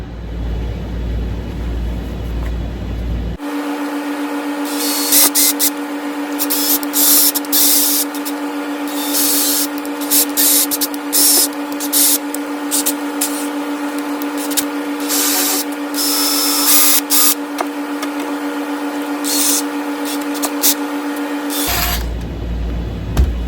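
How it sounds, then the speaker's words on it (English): Power drill boring two holes in an 18 HP Evinrude outboard motor, running as a loud, steady high whine for about eighteen seconds with slight changes in pitch, then stopping abruptly. "So I'm going to drill the 2 holes to be able to run my kill switch wires in it."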